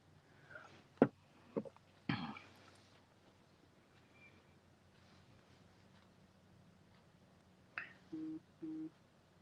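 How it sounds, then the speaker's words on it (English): Mobile phone buzzing on a surface while someone crafts at a table: two short vibration bursts near the end of a quiet stretch, preceded by a few scattered knocks. "Sorry about my phone buzzing."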